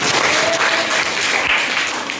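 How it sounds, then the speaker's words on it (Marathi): A room of school students claps together in a lively burst of applause, dense and close, tapering slightly at the end. "टाळ्या वाजवा सगळे"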